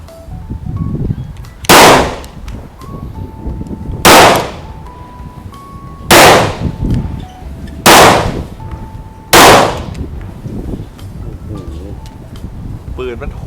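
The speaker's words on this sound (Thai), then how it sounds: "เริ่มยิงปืน" Five sharp shots from an HK VP9 pistol ring out at steady intervals of about two seconds, loud and close, over wind noise and people talking outdoors.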